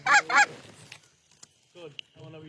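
A flock of low-flying geese honking during a goose hunt, two loud close honks followed by quieter scattered calls and clicks, with no talk.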